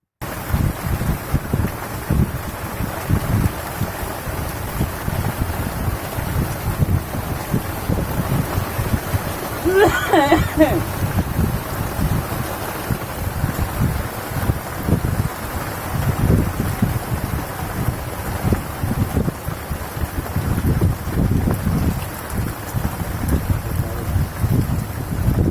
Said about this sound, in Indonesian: Hujan di musim kemarau.